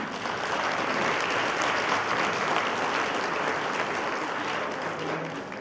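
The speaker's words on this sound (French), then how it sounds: "ça, vous pouvez l'applaudir hein, quand même." Steady, dense audience applause at a cultural season opening evening honouring Miss Champagne-Ardenne, sustained and even throughout, with a murmur of crowd under the clapping.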